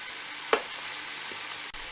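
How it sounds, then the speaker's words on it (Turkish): Minced meat sizzling with spices in a hot pan, a steady soft frying hiss with one brief sharp clink near the start and no voices. "Kıymamızı yüksek derecede kavurduğumuz için gördüğünüz gibi kesinlikle su salmadı ve hemen çabucak kavruldu"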